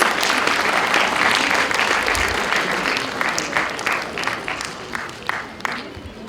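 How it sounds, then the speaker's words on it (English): An audience applauding at a law school ADR and client counselling competition event, dense clapping that thins out into scattered individual claps toward the end, fairly close and without talk. "Let's put our hands together, everyone, for this is the great moment of celebration. A big round of applause, please."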